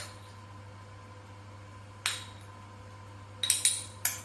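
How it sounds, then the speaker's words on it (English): A small metal spoon scrapes and taps against baking tins while scooping an oat mixture, with one clink followed a moment later by a quick cluster of sharp chinks over a faint steady hum. "use a small spoon, always makes it easier"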